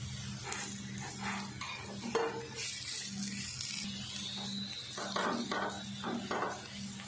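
Beef keema paratha frying in ghee on low heat, a faint close sizzle with intermittent scraping and shuffling as the bread is turned, over a low steady hum.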